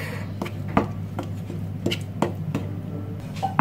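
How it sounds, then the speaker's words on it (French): A spoon stirring sugar into a yogurt ganache in a bowl, giving a series of soft, irregular clicks and scrapes against the bowl over a steady low hum, with no talking. "je vais mélanger le tout"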